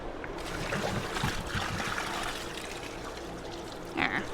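Water poured by hand into an off-grid laundry washer for a larger load, a steady close trickling splash running for several seconds, with a brief brighter burst near the end.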